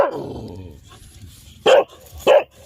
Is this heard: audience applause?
no